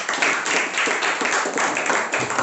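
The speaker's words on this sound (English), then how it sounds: "A big round of applause for him." An audience gives a round of applause for a speaker at a speakers' forum, steady dense clapping from many hands filling the whole stretch.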